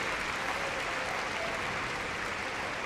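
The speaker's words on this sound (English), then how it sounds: "Let's give that a round of applause." Audience applause in an arena at the Crufts dog show during a dog activities display, sustained dense clapping from a large crowd, even and loud across the whole stretch with no talk.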